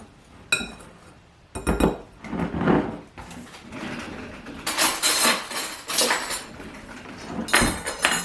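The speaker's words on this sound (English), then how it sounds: "And then I'm going to cut in 1 stick of butter." Two knives cut a stick of cold butter into an apple crisp crumble topping, producing irregular metallic clinks and scrapes against a bowl in short bursts with pauses between.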